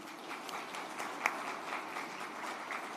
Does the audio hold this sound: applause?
yes